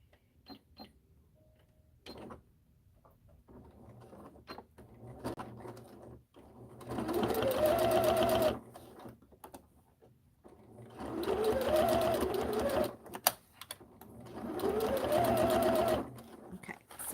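Sewing machine stitching a seam along a gusset, heard in three loud bursts of steady motor whirring with rising pitch, separated by quieter pauses with small clicks and handling.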